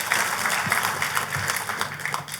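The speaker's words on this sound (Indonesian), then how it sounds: "Tepuk tangannya yang paling meriah buat Tuhan kita." A church congregation breaks into lively applause, a dense burst of many hands clapping that swells and tapers over a couple of seconds, with a faint voice underneath.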